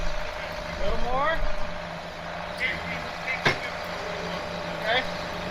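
A Snocat engine rumbling steadily under light throttle during a snow recovery, with a loud, continuous drone and short surges, while a voice talks over it nearby.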